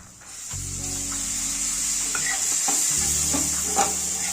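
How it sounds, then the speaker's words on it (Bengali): Spices and tomato being stirred in a hot frying pan for stick cutlets, a loud, steady sizzle close by with scraping strokes of a spatula against the pan and no talking. "তারপর এটা একটু নেড়ে নেব।"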